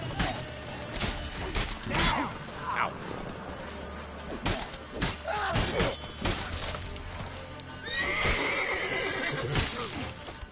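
Roach, Geralt's horse in The Witcher 3, whinnies amid a busy game fight with crashing and shattering impacts, hooves clattering in bursts and a voice speaking over the chaos.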